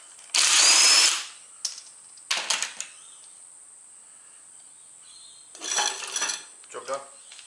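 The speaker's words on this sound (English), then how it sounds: "Rattle gun." A rattle gun loosens the top nut of a coilover on a Toyota Corolla AE92. It fires in a loud, sharp opening burst, then gives a few shorter bursts with quiet gaps and scattered clinks of metal.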